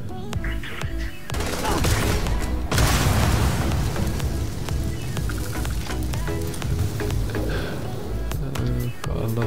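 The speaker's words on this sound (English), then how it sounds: "I love the explosions." Dense rumbling booms and crackling blasts in Starfield roll continuously, loud and layered, with rapid popping bursts mixed into the din.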